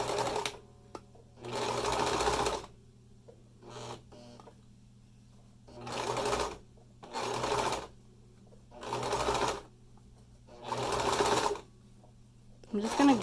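A sewing machine runs in repeated bursts of rapid stitching through many layers of fabric for a face mask, about six runs separated by short pauses, with faint talking in the gaps.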